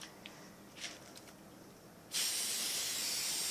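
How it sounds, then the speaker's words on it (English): An aerosol can sprays a protective coating onto costume jewelry. A steady, close hiss cuts in suddenly partway through and keeps going to the end, with only faint handling noise before it and no talking. "You don't have to spray a ton."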